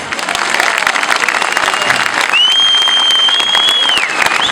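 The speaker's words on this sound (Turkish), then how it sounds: "o yüzden kendinizi bir kere daha alkışlamalısınız." A crowd claps steadily at an election office rally in Bodrum, with dense, continuous applause filling the space and a faint whistle-like tone rising partway through.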